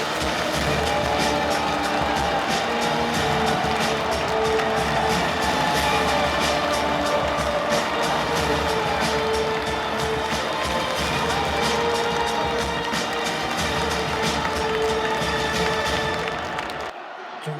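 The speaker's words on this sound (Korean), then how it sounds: "뜨거운 박수로 맞아주시기 바랍니다" A large crowd at a Democratic Party presidential nomination convention applauds and cheers in a loud, sustained roar of clapping that holds steady for most of the stretch before cutting off abruptly at the end.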